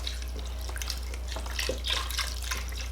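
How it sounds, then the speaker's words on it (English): Beef broth poured into a soup pot, a gentle continuous splashing trickle over a steady low hum, close by with no talking. "we are going to be adding about 16 ounces, so 2 cups of beef broth"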